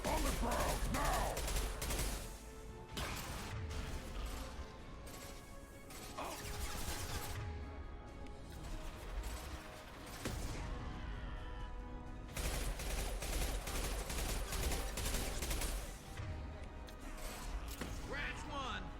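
SMG gunfire in the video game Mass Effect Legendary Edition, repeated rattling bursts and crashes of combat spread across the stretch, with people talking over the action.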